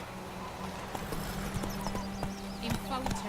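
Roach's hooves in The Witcher 3 beat out a rhythmic clip-clop close by, under a voice speaking throughout.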